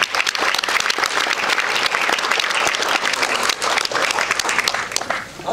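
Sustained applause from an audience at an Ambit Energy presentation, dense steady clapping that stays loud throughout and dips slightly near the end.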